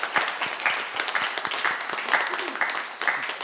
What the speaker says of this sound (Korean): 우리 함께 환영의 박수 하겠습니다.